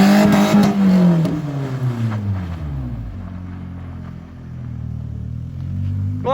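A BMW E46 318 engine revs hard during donuts and then drops to a lower rumbling drone, close and loud, with a brief higher whine right at the end.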